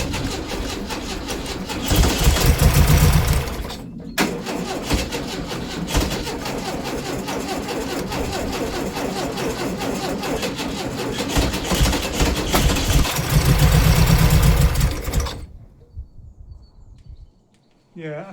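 A VW Type 2 engine with a suspect fuel pump cranks and catches, then runs at a loud, rough, steady idle for about eleven seconds before cutting off, with voices faintly audible over it.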